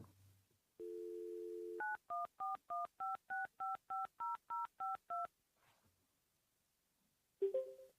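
Telephone dial-in for a city council meeting call: a steady dial tone, then a quick run of about a dozen evenly spaced DTMF keypad beeps, silence, and a brief electronic prompt tone at the end.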